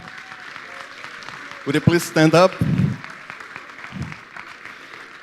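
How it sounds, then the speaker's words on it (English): Applause from an audience at a school environmental event in Entroncamento. Moderate clapping runs throughout the clip, and a voice speaks briefly over it in the middle. "Please give her a round of applause."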